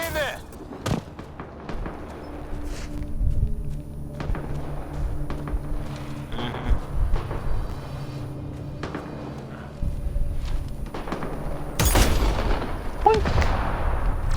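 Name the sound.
grenade explosion in Mass Effect Andromeda video game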